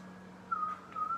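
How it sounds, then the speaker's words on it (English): In a song, a clear whistled melody plays as two short rising phrases over a low, steady musical backing. "Oh, it's got a whistle."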